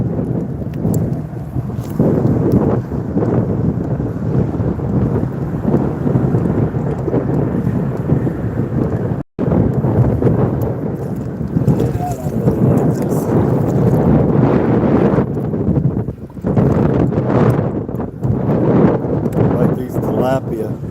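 Strong wind roars and buffets the microphone continuously at a fishing spot, a loud broadband rush with gusty swells and a brief dropout midway, with people talking faintly underneath.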